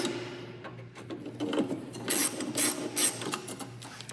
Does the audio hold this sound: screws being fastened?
yes